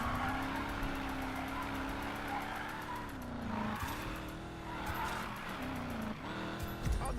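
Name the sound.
car drifting with tire squeal, Need for Speed Payback video game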